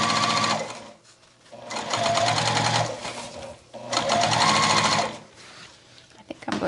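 A sewing machine stitches a gusset onto a denim tote bag made from upcycled jeans, running in three long loud bursts with brief pauses between them.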